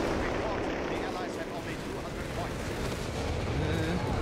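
A Crusader tank blowing up amid a Company of Heroes 3 battle: dense, continuous roar of explosion and artillery-like blasts filling the whole stretch, loud and close, with gunfire mixed in.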